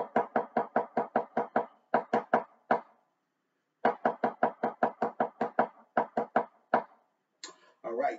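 Drumline snare rhythm '1 E up', played as 16th notes with the second right-hand stroke dropped: tight clusters of sharp close strokes in a steady pattern, a brief silence in the middle, then talking begins near the end.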